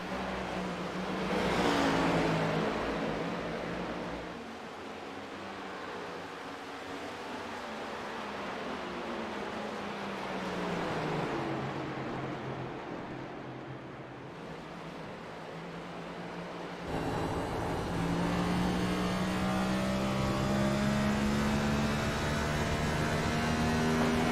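Race cars lapping New Hampshire Motor Speedway, engines droning and rising in pitch as they pass and fade, with a louder sustained roar toward the end and possible downshifts.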